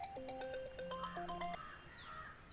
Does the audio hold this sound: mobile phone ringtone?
yes